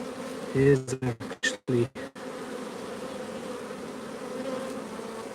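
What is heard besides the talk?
honey bees buzzing at an open beehive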